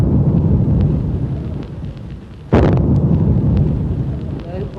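A ceremonial cannon fires one deep boom midway through the stretch at a 1957 Malayan royal installation, rising over a steady rumbling crowd and outdoor ambience.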